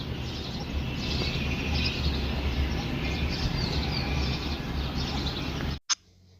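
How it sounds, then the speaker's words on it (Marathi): Soft morning birdsong with scattered chirps and tweets over a steady low outdoor hum, faint and somewhat distant, continuing for several seconds before cutting off. "तुम्हाला थोडी किलबिलही ऐकू होते पक्ष्यांची."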